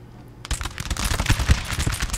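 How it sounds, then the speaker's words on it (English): Musket volley from militia in Napoleon: Total War, a ragged crackle of many shots overlapping for about two seconds, fairly loud and dense after a quiet start. "let's get off a nice volley, men"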